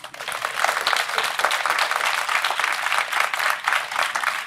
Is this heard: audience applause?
yes